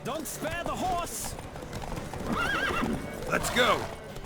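Horses gallop and neigh during a race in The Witcher 3 video game, with drumming hoofbeats and several loud whinnies over a busy background, plus voices in the mix.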